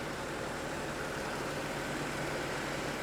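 A dirty V6 car engine idles rough, a steady close low rumble that holds evenly throughout with no other sounds over it.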